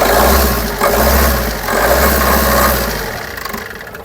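A Maruti Suzuki Dzire Tour with the DDIS 1.3 MJD diesel engine running nearby, a loud, steady diesel idle with a rhythmic low throb and mechanical clatter.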